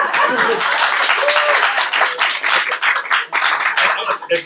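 An audience claps during a comedic stage talk about the book Valley of the Dolls, a brief burst of applause with voices and laughter mixed in, loud and close, thinning out toward the end.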